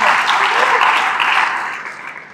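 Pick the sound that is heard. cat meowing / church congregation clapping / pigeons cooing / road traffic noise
church congregation clapping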